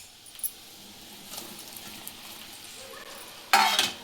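Alu vadi pieces drop into a hot mustard-seed tempering in a pan, a steady low sizzle building to a sudden loud burst of crackling and spattering near the end, with no voices.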